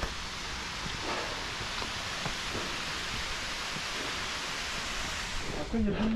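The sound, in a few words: small waterfall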